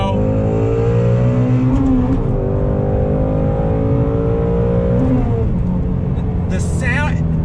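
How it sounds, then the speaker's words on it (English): A 2018 Ford Shelby GT350 engine revs up under throttle, a loud, rising roar that climbs steadily, eases, then surges again, while someone talks over it. "On throttle, here we go."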